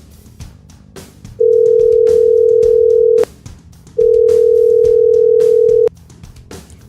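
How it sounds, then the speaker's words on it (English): Two long, loud electronic telephone ring tones sound on a sports radio show, separated by a short gap, over a crowd and play-by-play broadcast bed. "Phone lines are fired up."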